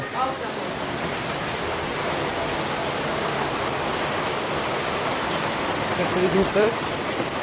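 Steady, dense roar of heavy rain pouring down, a broadband wash that stays constant throughout, with a faint voice briefly audible near the end.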